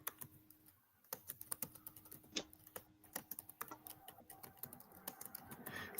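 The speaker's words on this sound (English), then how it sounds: "I'm just typing out the question" Rapid, irregular clatter of fingers typing on a computer keyboard, a dense run of sharp close clicks with brief pauses, continuing steadily with no voices over it.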